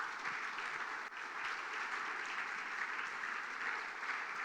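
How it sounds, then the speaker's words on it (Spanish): A church congregation applauds throughout, a steady, dense roar of clapping with a brief dip near the start, no voices standing out. "Denle un aplauso al Señor"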